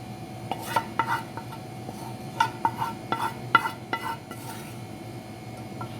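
Fried onions being stirred into olive oil, with scattered clinks and scrapes of a utensil against a pan over a low steady kitchen background; no talking.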